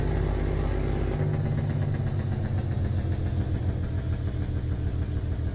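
A truck's engine brake running on its quietest first stage, a low steady rumbling drone that picks up a rapid pulsing chug after about a second and continues evenly throughout.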